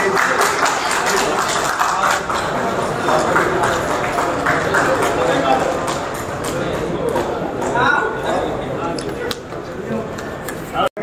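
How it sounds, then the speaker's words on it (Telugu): An audience at a district sports event gathering claps in sustained, dense applause, with a voice speaking over the clapping. "క్లాప్స్ కొట్టండి."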